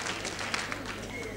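Studio audience applause for a young candidate on the 1991 French TV show L'École des fans, a dense, steady wash of many hands clapping throughout.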